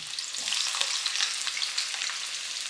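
Onions fry in hot oil for vegetable biryani, a steady, close hiss of sizzling with small crackles and faint stirring scrapes, no voices.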